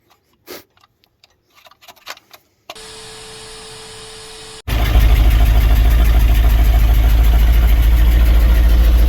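An old truck's engine starts and settles into a loud, steady idle while warming up in snow, preceded by a few clicks and a brief electric whine, close to the microphone with no talking.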